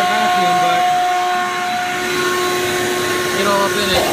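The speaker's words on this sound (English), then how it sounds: "Everyone knows how to vacuum," A vacuum cleaner runs steadily and close up while cleaning the interior of a 2015 Subaru WRX STI, its continuous whine holding level throughout with slight shifts as the nozzle moves around the cabin.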